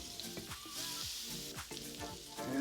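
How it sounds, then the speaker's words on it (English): Butter sizzles and crackles in a hot pan for pan-seared salmon, a close, busy hiss with scattered pops throughout the short stretch. "We're going to add some butter"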